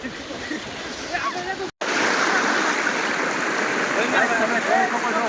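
The flooded Malan River at Mahuva rushes past in a loud, continuous roar of churning water. The sound is close and unbroken apart from a momentary dropout.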